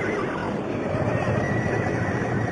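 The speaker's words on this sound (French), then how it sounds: "Voici vos chevaux, colonel." Neighing and whinnying from a large group of horses, several hundred strong, handed over to a colonel; a dense, continuous crowd of animal calls with hoof noise mixed in, loud and steady throughout.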